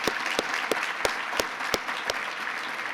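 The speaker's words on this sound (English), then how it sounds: "Let's give Corbu a round of applause for tonight." At a hall of fame ceremony, a crowd's applause is marked by sharp, evenly spaced rhythmic claps about three per second, fairly loud and close.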